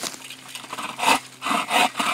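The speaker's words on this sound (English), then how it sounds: "All right, a little more sawing." A handsaw rasps through wood in a few short, uneven strokes, close and fairly loud, with brief pauses between pulls.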